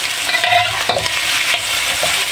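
Fried rice with egg is stirred in a hot pan, giving steady close sizzling and frying with repeated scraping, clinking strokes of the spatula.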